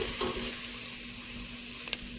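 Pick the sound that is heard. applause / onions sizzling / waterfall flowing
onions sizzling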